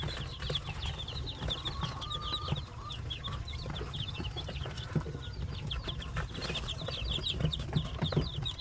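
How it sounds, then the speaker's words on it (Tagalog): Newly hatched chicks under an incubator bulb give a constant stream of high, rapid peeping, with many overlapping chirps close by over a low steady hum. "Yan naglalaro yung mga sisiw."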